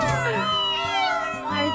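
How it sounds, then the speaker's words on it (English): Small cartoon kittens give short, high, close meows in quick succession against a soft musical background. "Are those... they're Titi's adorable little kittens."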